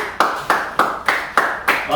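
Middle school students clapping in unison in a physical education class orientation, seven sharp, evenly spaced group claps about a third of a second apart, loud and close, with voices mixed in between.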